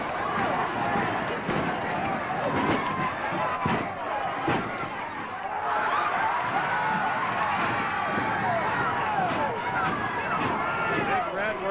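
A wrestling arena crowd roars in uproar around the ring, a dense, continuous wall of cheering and shouting that stays loud and steady throughout, with sharp bursts rising from the din.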